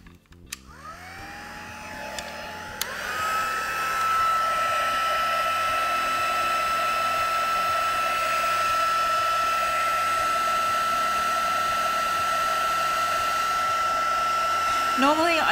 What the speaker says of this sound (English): let's just go over those with our heat gun and get them drying